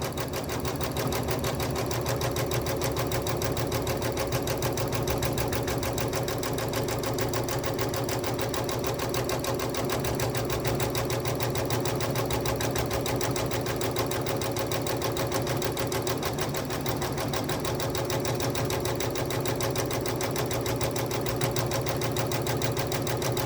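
A sewing machine stitches a quilt held in a magnetic hoop, its fast needle chatter running steady and loud without a break from start to finish.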